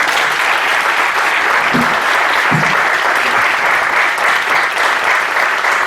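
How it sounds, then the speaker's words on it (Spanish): Sustained applause from an audience at a university law faculty commemoration honoring speakers, a dense steady wash of many hands clapping without pause throughout. "Quisiera solicitar un aplauso a nuestros expositores,"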